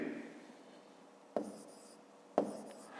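Numbers are written by hand during a maths exercise, heard as soft scratching of a pen or pencil on paper. Two sharper taps of the pen mark the start of new strokes, all close and quiet, with no speech.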